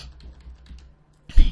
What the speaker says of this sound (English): image by pressing C on my keyboard and holding Shift while bringing the crop tool down